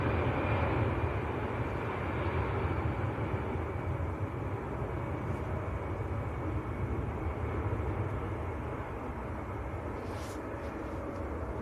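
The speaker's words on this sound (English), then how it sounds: "Airbus A320." An EasyJet Airbus A320 departing Manchester Airport for Paris Charles de Gaulle gives a steady, distant jet roar that holds throughout and fades slightly toward the end.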